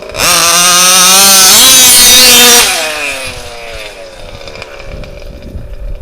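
HPI Baja RCMAX 90 RC car engine revs hard, a loud high-pitched two-stroke whine climbing in pitch for about two seconds before dropping back to a rough, burbling idle up close.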